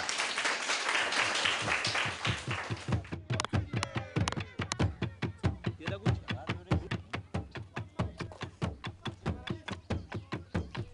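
Children in a classroom in Burundi clapping, at first as a burst of applause and then settling into steady, rhythmic unison claps that repeat evenly to the end, close and loud.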